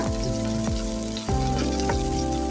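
Green chili, garlic and ginger pastes spooned into a pan of hot oil for a Bangladeshi koi fish curry with potatoes, giving a steady close sizzle with a few stirring scrapes and no voices.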